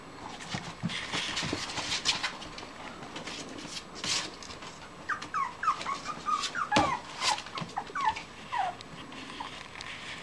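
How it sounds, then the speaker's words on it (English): A pet dog whimpers and whines in high, wavering cries, soft at first then in a cluster of yips toward the end, close by in a quiet indoor evening setting. "What are you whimpering about?"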